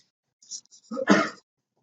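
A single short sneeze, fairly close, with a quick intake of breath before the burst, then silence.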